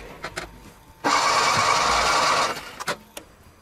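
A Polski Fiat 126p 600cc two-cylinder engine cranks over for about a second and a half without starting during a compression test, a steady loud whirring between a few clicks and clunks.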